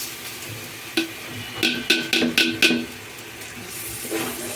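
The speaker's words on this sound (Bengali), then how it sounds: "এর পর্যায়ে আমরা চালটা দিয়ে দিচ্ছি।" Washed rice is tipped into a pot and stirred for beef tehari, giving a run of short scraping, rustling bursts with a faint sizzle underneath, close and fairly quiet.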